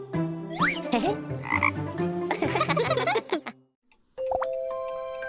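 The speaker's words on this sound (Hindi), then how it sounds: "ये एक मेंढक है।" Cartoon frog croaks repeat over cartoonish sound effects and music, with a short silence before a sustained tone takes over.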